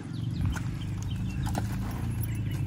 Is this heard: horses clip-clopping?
yes